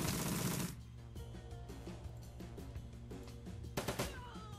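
Turret fire in the turn-based game Shadowrun: Dragonfall comes as a loud blast followed by a string of quick, fairly faint mechanical shots over a low hum, then a second loud burst near the end.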